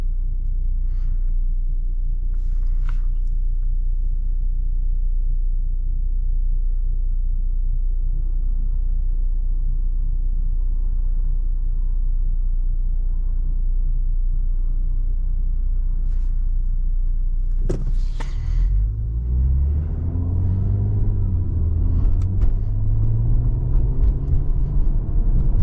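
A Honda Accord V6 with an FBO exhaust idles as a low, steady rumble, then opens up into a loud, rising acceleration roar close by for the final seconds.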